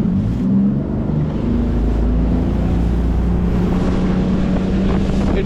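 A Highfield RIB motorboat cruises on the open ocean, its engine a loud continuous drone with rushing water and heavy wind buffeting the microphone throughout.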